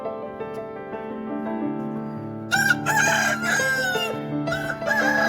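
Chickens and a rooster kept inside a netted, covered coop at a Kerala home; low clucking is followed by a loud, close rooster crow, with more clucking and squawks after it.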